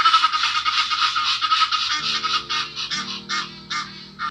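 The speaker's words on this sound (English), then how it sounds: "do you hear the geese? These geese go crazy." A flock of geese honks continuously in rapid, overlapping calls, loud and close, with no talking.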